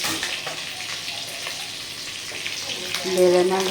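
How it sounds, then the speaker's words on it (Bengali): Steady hiss of bele fish (sand goby) frying in hot oil fills the clip, with a brief clink or scrape near the end. "ভাজা বসিয়েছি।"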